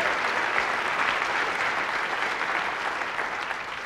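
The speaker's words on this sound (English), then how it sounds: "So a round of applause for Chip Denman." A lecture audience breaks into applause, a dense, sustained wash of clapping from many hands that fades slightly toward the end.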